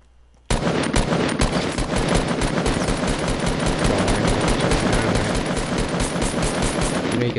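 Sustained rapid automatic gunfire from a video game shooter breaks out abruptly after a quiet moment and keeps hammering at a steady fast rhythm, loud and close, for several seconds.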